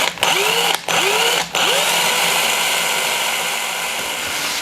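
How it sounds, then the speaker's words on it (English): A power drill with a tiny bit bores the tail eye hole in a glass shad fishing lure: three short rising whines with brief gaps, then a steadier continuous drone, close and fairly loud. "let's drill the tail eye."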